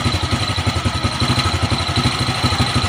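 Motorcycle engine idling steadily with a rhythmic low chug and light mechanical clatter while its carburetor idle is adjusted, close and continuous.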